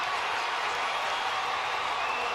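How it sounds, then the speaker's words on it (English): Crowd cheering in the stands at the Penn Relays sprint medley relay, a steady broad roar of many voices sustained throughout, loud and continuous with no distinct claps standing out. "And the crowd cheering her on."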